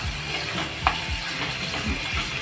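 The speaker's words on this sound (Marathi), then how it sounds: "हा कांदा आहे ना आपल्याला मस्त असा शिजवून घ्यायचा" Three medium chopped onions fry in a pan for a Maharashtrian ambadi (wet ambad) fry, a steady close sizzle with a few soft stirring knocks and scrapes across the pan.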